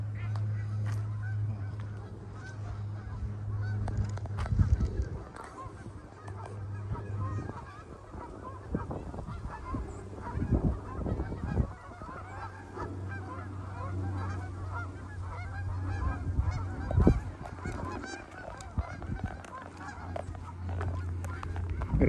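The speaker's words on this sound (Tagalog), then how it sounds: "gansa o yung Canadian goose na sinasabi dito" A large flock of Canada geese honks continuously at a lake park in cold weather, the dense overlapping calls carrying steadily throughout with a few louder nearby honks and no talking.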